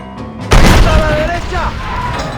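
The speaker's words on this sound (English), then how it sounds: "rocking this cannon is just dumb fun" A cannon fires in Red Dead Redemption, one heavy booming blast with a rumbling tail that leads into game music and ambience, with indistinct voices underneath.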